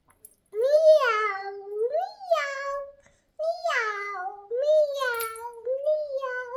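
A voice imitates a cat, producing a series of drawn-out, rising and falling meows with short pauses between them, close and fairly loud.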